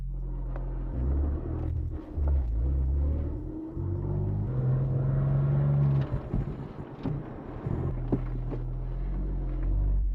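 Porsche 996 Carrera engine running, a low steady rumble with some wind noise, rising and falling slightly in pitch, moderately quiet and alone.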